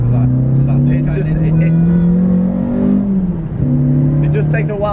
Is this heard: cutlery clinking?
no